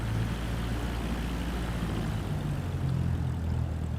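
Aircraft engine droning steadily while taxiing in Microsoft Flight Simulator 2024, a continuous low hum with a faint propeller rumble and no voices.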